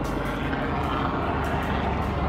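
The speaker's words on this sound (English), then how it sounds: "we were being invaded by a helicopter" A white helicopter passing overhead, its steady rotor and engine roar filling the clip at moderate loudness with no talk.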